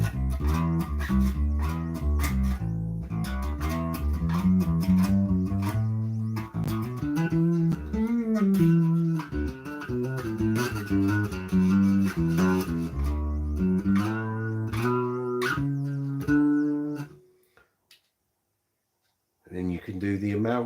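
An electric guitar plays a long flowing passage through an effects pedal, then stops and rings out into silence.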